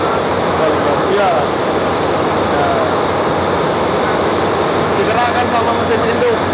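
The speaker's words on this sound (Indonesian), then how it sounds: "Digerakkan sama mesin induk." The main engine of a large ship drives the propeller on a voyage from Semarang to Pontianak, a loud, steady mechanical roar that never changes, with faint muffled voices under it.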